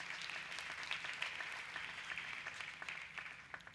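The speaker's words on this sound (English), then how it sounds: "I would like us to congratulate them by giving them the warmest round of applause for their contribution at this college" Steady, even applause from a graduation audience at Motheo TVET College honouring contributors, a dense wash of many hands clapping at moderate distance without pause.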